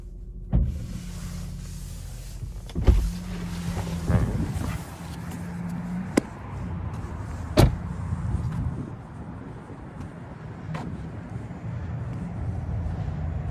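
Front trunk of a 2022 Tesla Model Y Dual Motor being opened: a few soft mechanical clunks and a latch click over a steady low hum, close by with no talk.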